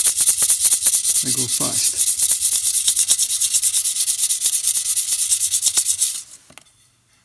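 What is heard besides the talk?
sanding ceramic repair with 400 grit sandpaper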